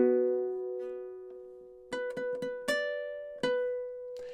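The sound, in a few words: ukulele playing a riff measure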